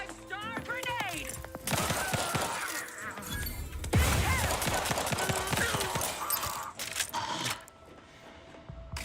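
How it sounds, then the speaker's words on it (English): Gunfire in the video game The Outer Worlds 2: bursts of shots with crashes and breaking debris, a sharp bang near the middle, over game music and voices talking. "Did you think shooting up the place was a good idea"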